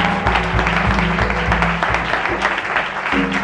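A church congregation bursts into loud, sustained applause in acclamation of God during a revival service, a dense continuous roar of clapping with voices mixed in.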